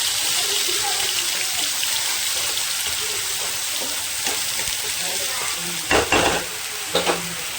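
Chopped raw onions with dried red chillies sizzle steadily in a pan for Bengali fish-and-potato curry, with a few louder scraping stirs of the spatula toward the end.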